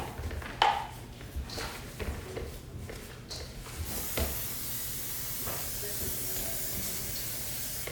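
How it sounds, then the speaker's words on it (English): Cooking spray hissing from a shaken aerosol can onto a bundt pan in a kitchen, a few short bursts followed by a long continuous spray, moderately close and unaccompanied by talk. "Sophia, can you shake up that can, please, of cooking spray? And I mean spray that thing"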